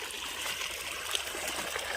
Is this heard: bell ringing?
no